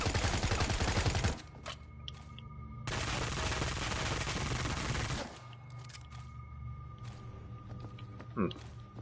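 Sustained automatic gunfire in the zombie shooter game World War Z comes in two long, dense bursts with a gap between them, followed by quieter scattered game sounds and a single sharp clank.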